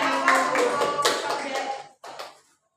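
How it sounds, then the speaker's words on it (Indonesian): A classroom audience applauds a presenting group during a microteaching session, a short burst of scattered claps and taps mixed with voices. It fades after a brief pause and ends in silence. "kita memberikan aplaus untuk kalian, Hanifah"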